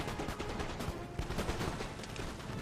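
Musket volleys in a Napoleon: Total War battle at a fort, heard as a continuous crackle of overlapping distant shots with a few sharper pops, steady and moderately quiet.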